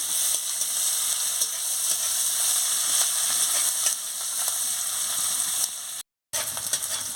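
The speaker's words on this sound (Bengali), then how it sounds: "এবারে পেঁয়াজ কুচিতে দিয়ে ভালো করে মশলাটাকে ভেজে নিচ্ছি" Steady, close sizzling of chopped onions and spices frying in a hot pan, with occasional stirring scrapes; a brief silent gap near the end.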